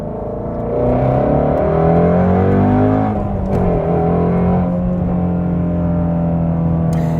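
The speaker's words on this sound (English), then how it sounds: "I'll give you a little acceleration." A 2020 Ford Shelby Mustang GT350R engine revs up loudly on a highway on-ramp and steadily climbs in pitch as it accelerates, heard from close by with a continuous throaty roar.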